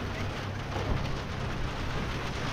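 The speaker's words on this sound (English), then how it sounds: "the rain just started" Rain beginning to fall outdoors, a dense, steady hiss of drops with a low rumbling undertone, fairly faint and continuous, no voices.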